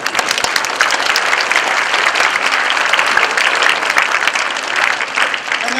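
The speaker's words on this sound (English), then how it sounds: "Can we give him a big round of applause?" An audience claps loudly and continuously for about six seconds in an indoor seminar hall. The applause is dense and steady, with no voices heard over it.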